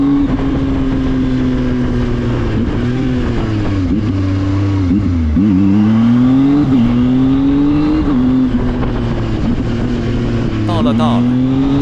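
A ZONTES 703F motorcycle's engine and exhaust drone loudly and close while riding, the pitch rising and falling steadily with throttle changes, with a voice talking over it.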